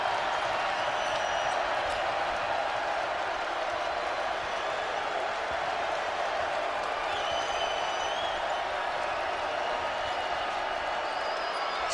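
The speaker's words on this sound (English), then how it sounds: "Here comes the crowd at Bud Walton Arena." Crowd noise at Bud Walton Arena during an Arkansas versus LSU college basketball game, a steady roar of cheering and applause filling the arena while a commentator talks over it.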